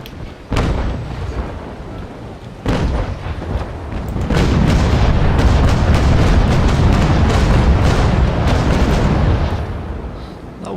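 A sailing warship in Naval Action fires a cannon broadside, first two heavy booms, then a long rolling barrage of overlapping blasts that fades away, loud and close.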